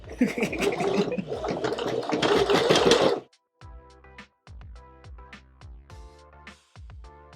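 A sewing machine stitching fabric for a handmade puppet, heard as a short burst of fast mechanical running followed by sparse clicks and taps after it stops.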